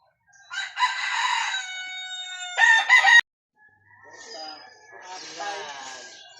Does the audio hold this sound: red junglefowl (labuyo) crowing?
yes